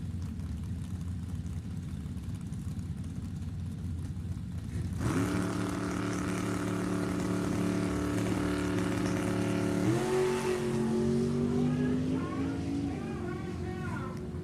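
At a drag strip, a 1991 Firebird and a 2002 Suncoast chassis dragster launch. A steady background rumble gives way to a loud, sustained engine roar that rises in pitch, while an announcer talks over it.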